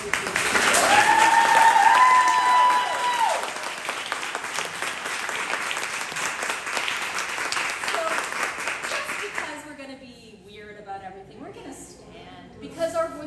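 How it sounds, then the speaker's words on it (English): An audience at a book launch breaks into loud, sustained applause that peaks early, then gradually fades over several seconds as a voice and room noise take over. "let's hear a round of applause to begin with"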